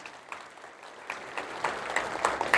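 Applause builds from a crowd at a political rally in Maharashtra, rising from scattered clapping to a louder, denser burst near the end.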